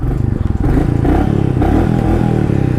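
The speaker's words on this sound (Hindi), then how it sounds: "कुछ इस तरीके से एग्जॉस्ट नोट मिलता है रॉयल एनफील्ड की मीटियोर 350 का" A Royal Enfield Meteor 350 motorcycle idles close by, its exhaust thumping in a loud, steady single-cylinder beat with slight revving and mechanical clatter.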